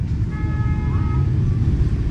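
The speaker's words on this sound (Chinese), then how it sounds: "耳朵里一直是喇叭声，滴滴滴滴滴滴，呜呜呜呜，哎呦好吵" Car horns toot in a few short rising beeps over a constant rumble of dense traffic on a busy Vietnamese city street, heard from nearby amid engine noise.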